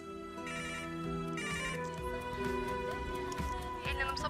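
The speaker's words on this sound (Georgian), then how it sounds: "სადულახი რეკავს მუდანაის სახლიდან." A telephone ringtone sounds in two short bursts near the start, then fades under swelling dramatic music in a dubbed TV drama.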